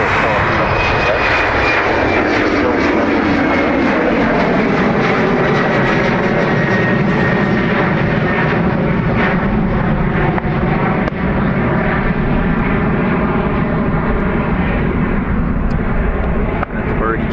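An airliner taxis at Dublin Airport by the north runway, its jet engines giving a loud, sustained roar that holds steady and then slowly eases in pitch across the whole stretch.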